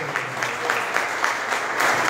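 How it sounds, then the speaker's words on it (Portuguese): A church congregation applauds for the Lord during a service, a dense, steady burst of clapping from many hands with a few louder swells, filling the room without talk. "Dê uma salva de palmas para o Senhor."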